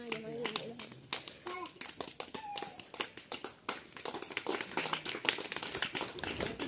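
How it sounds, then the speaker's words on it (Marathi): School students at an English language competition clap in uneven bursts for the winners while children's voices chatter over and between the claps. "जोरदार एकदा त्याच्यासाठी टाळ्या"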